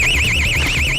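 A burglar alarm sounds during a police forced-entry raid, a loud, continuous warbling electronic siren that wavers rapidly up and down in pitch, close and unbroken over a low background rumble.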